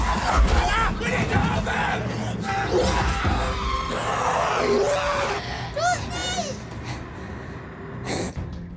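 A child screams amid tense, noisy commotion aboard a plane in the vampire thriller Blood Red Sky, with shrill cries rising over a babble of panicked voices, yells and dramatic film sound.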